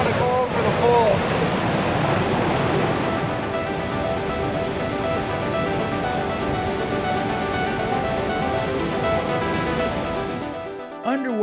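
Steady, loud roar of rushing river rapids and a waterfall, a continuous broadband wash of water close to the microphone that holds for about ten seconds before cutting off.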